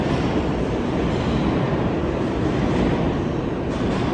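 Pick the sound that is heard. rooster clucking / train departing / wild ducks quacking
train departing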